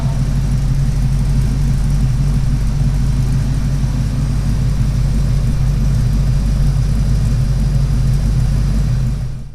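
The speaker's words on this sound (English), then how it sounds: "there's a nice little sound clip for you at idle" A Ford Mustang Foxbody with headers, an H-pipe and a Magnaflow catback exhaust idling, a loud, steady deep exhaust rumble that holds constant throughout, close up with no talking.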